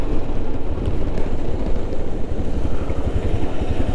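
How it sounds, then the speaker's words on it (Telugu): A Royal Enfield Himalayan motorcycle being ridden near a beach road gives a steady, loud engine rumble mixed with heavy wind buffeting across the whole stretch, with no talking. "ఈ బైక్ మీద ఇదే నా ఫస్ట్ రైడ్, అసలు వ్లాగ్ చేస్తూ ఇదే ఫస్ట్ వ్లాగ్ ఈ బైక్ మీద"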